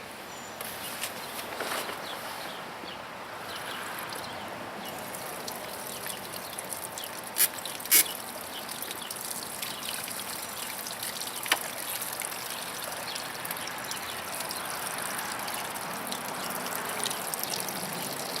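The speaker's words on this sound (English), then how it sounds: "we're going to try to fill this 5-gallon Coleman bag up just using the water tote" Water trickles and splashes steadily into a 5-gallon Coleman solar shower bag from a water tote at close range, a continuous gentle flow broken by a few small clicks.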